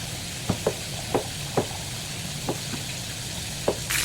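Steady oily sizzling of tilapia frying in a pan, with occasional light knocks of a utensil against the pan, close and continuous.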